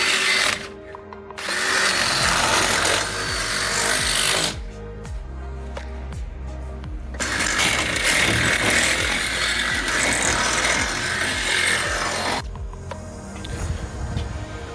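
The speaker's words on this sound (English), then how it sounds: "just drill out the hole a little bigger." A power drill bores out and enlarges a hole in a part for a 1988 Jeep YJ, running in two long loud bursts with brief pauses and slowdowns between them, close up, with no talk.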